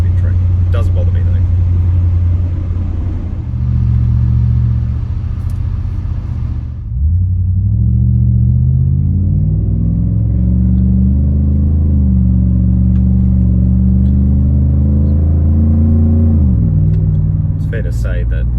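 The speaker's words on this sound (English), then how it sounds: "if you like the sound of exhaust, this is going to be quite good for you" A Nissan Y62 Patrol fitted with a Manta cat-back exhaust rumbles steadily with a deep, loud drone, rising and falling gently in pitch as the engine speed shifts, heard close and continuous.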